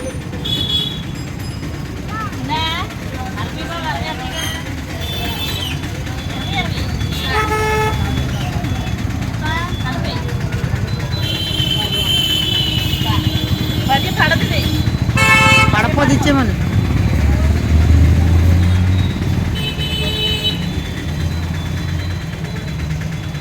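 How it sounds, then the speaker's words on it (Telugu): A bus approaches with its engine rumbling and sounds several loud horn toots midway, while people talk nearby almost the whole time. "అక్కడ నుంచి బస్సు వచ్చేస్తుంది"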